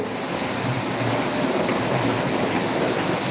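Heavy rain falling in Uttar Dinajpur, West Bengal, a steady, dense hiss that holds at an even level throughout with no voices.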